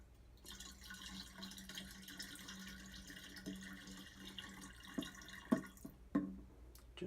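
Pectic enzyme poured into wine must, a soft trickling and dripping of liquid against a quiet background hum, with a few louder splashes toward the end.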